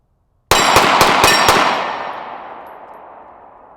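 Several rapid 9mm pistol shots from a Star Model 30M firing 124-grain full metal jacket NATO rounds, about five sharp reports in quick succession, loud and close, followed by a long ringing decay with no talking.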